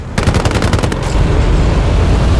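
Rapid automatic gunfire from the video game Battlefield Play4Free, a dense loud burst of shots for about a second, then continuous rumbling battle noise without distinct shots.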